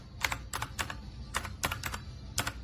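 Fingertips type on a compact Redragon K617 60% wired RGB mechanical gaming keyboard, giving about eight sharp, irregular keystroke clacks, some in quick pairs, up close over a faint background hum.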